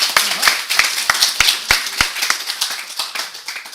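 Applause from the audience at a school awards ceremony, a dense run of overlapping hand claps with sharp individual slaps that thins toward the end.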